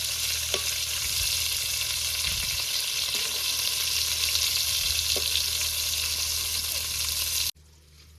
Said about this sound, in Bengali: উস্তেগুলো ভালো করে ভাজিয়ে নিতে হবে